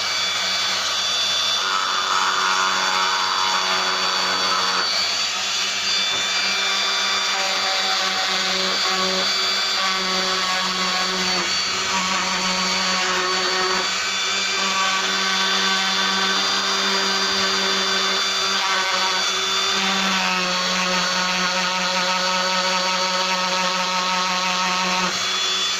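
A homemade drill built from a Bosch angle grinder runs continuously with a loud, high motor whine that shifts pitch as the speed is raised and lowered, heard alone.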